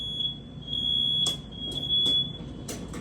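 A faulty wired smoke detector beeps in a house, a steady high tone broken by several sharp chirps, clear and close with no talking.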